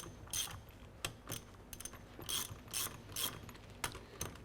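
Socket wrench ratcheting while a Schmidt Thompson metering valve is reassembled: repeated bursts of sharp metallic clicking in an uneven rhythm, close and clear with no voices.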